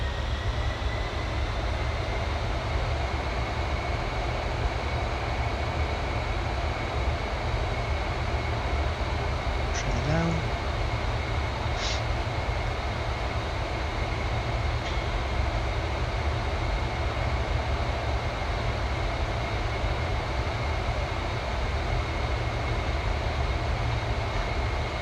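Avro Vulcan bomber jet engines in a flight simulator drone at a steady, loud, broad roar with a constant whine above it and a few brief clicks, no voices.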